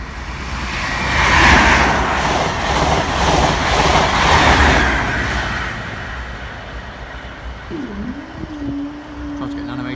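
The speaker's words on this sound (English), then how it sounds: "Here comes ScotRail." A ScotRail train rushes past Bathley Lane level crossing with a loud rolling rumble that peaks early and fades, followed by a steady tone toward the end.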